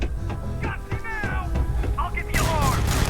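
Gunfire in the video game Starfield cracks in several sharp bursts amid chaotic game sounds, with someone talking over the shots and a louder flurry of fire near the end.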